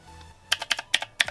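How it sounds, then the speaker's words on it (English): Mechanical keys on a Divoom Ditoo pixel-art Bluetooth speaker clicking crisply, about six quick sharp clicks in an uneven rhythm, close and alone against a quiet background. "below sits the functional mechanical keyboard, which has a satisfying click"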